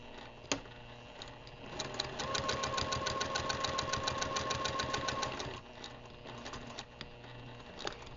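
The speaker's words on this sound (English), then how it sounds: "some machines will do an extra stitch either when you stop sewing or when you go to back stitch" A sewing machine stitches a seam, running in a steady fast mechanical rattle for several seconds, then slowing to a few isolated stitch clicks as it backstitches, close and clear with no talk.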